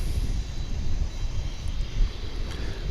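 An American Airlines Boeing 777 jet airliner on the runway at DFW gives a brief, fairly loud low engine rumble, steady and close, with no talking.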